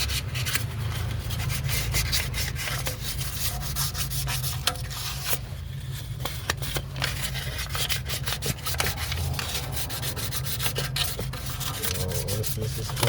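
Fine 1000-grit sandpaper rubbing across an aluminum vehicle throttle body, a steady, close, continuous scratchy rasp of back-and-forth strokes with no talk.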